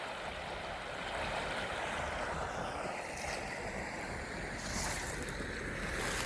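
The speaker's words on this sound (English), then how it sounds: "You can listen to that water flow all night. It's just flowing like right there." A creek flows right beside a lakeside campsite with a steady, even rush of water that carries on unbroken, touched by some wind noise and no voices.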